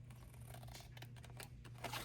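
Scissors cut through thin cardboard boxes for a DIY craft, making a faint, continuous scratchy snipping and crunching close by over a steady low background hum.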